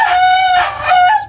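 A gamecock stag of the bangkas type crows close by and loud, with one drawn-out cock-a-doodle-doo that has a rising final note.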